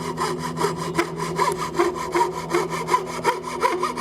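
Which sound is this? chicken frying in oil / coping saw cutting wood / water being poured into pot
coping saw cutting wood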